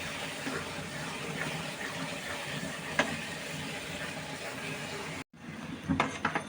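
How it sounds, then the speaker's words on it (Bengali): Thickened milk is poured into a carrot sandesh mixture and stirred, giving a continuous close gushing, slurping wash that stops abruptly near the end before brief stirring sounds. "এই যে আমি 2 কেজি দুধকে যে ঘন করে রেখেছি একদম, এটা দিয়ে দিব। দিয়ে আবার কিছুক্ষণ নেড়ে নিব।"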